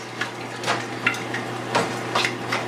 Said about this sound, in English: and then I stir it all up